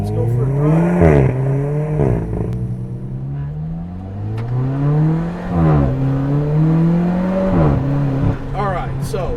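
Tuned Alfa Romeo 4C with a manual gearbox in dynamic mode, accelerating hard through several gears, loud close engine revs rising and dropping at each shift, with someone talking over it.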